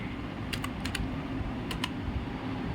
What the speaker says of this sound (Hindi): जैसे मैं यहाँ पर लिखती हूँ राम